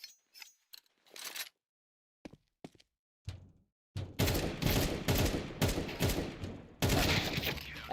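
Gunfire in a competitive first-person shooter match, scattered single shots and clicks at first, then sustained loud bursts of rapid fire, close and dense, with no talk.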